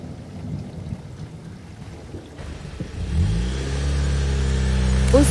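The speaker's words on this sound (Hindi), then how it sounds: "उस सुनसान हाईवे पर एक काली गाड़ी आकर रुकी।" A car on a deserted highway at night approaches with a swelling engine rumble that grows loud and steady over the last few seconds, with a faint squeal at the very end as it pulls up and stops.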